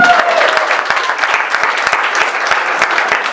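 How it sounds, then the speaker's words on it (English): A political club audience at a Democratic club meeting applauds an award honoree with a sustained round of clapping, individual sharp hand claps standing out over a steady crowd wash. "give a big round of applause to our wonderful Bill Roberts"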